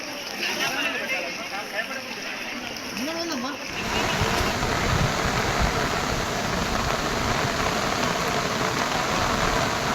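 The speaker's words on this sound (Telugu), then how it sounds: "నిన్నటి నుంచి పడుతున్న వర్షాలు ఇవాళ బీభత్సాన్ని సృష్టిస్తున్నాయి" Heavy monsoon rain in Medak, Telangana pours steadily as a dense, continuous wash of noise, growing louder and fuller partway through and staying strong to the end.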